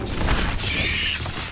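A Bombarda blasting spell cast during an arena duel in Hogwarts Legacy, a dense magical whoosh with crackling, mechanical-sounding bursts and a bright hissing sweep, loud and close with no talk.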